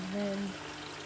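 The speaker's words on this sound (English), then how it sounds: "there'll be water coming out of the tube" Water gushes and gurgles from the filter tube of a discus aquarium during tank cleaning: a short, fairly close pour with a tonal gurgle that fades after about half a second into a steady low trickle.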